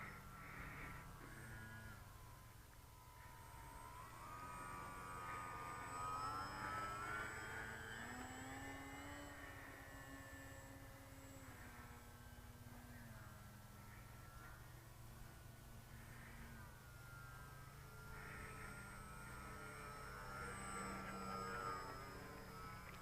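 An RC Fokker D.VII scale model biplane flies overhead on a clear, cold day, its engine a steady droning whine that rises and falls in pitch as it passes, with no talking.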